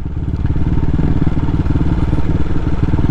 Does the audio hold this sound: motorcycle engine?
yes